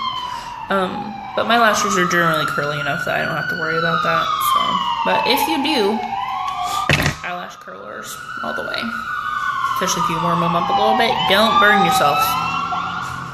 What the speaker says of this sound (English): Sorry about the sirens. We live right by a roundabout,